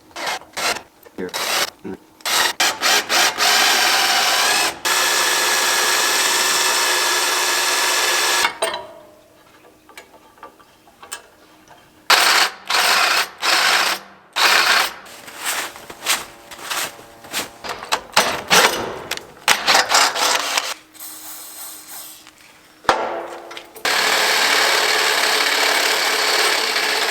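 Loud bursts of power drilling start and stop repeatedly, with short pauses and brief quiet stretches between runs, close to the listener, while drilling mounting holes for a Zeak 10,000 lb winch.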